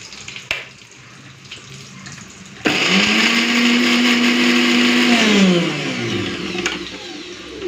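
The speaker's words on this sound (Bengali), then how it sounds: "চলুন এটাকে এখন বেটে নিই।" Kitchen blender grinding garlic and whole cumin into spice paste, starting abruptly with a loud steady whir that holds for a few seconds, then winds down and stops.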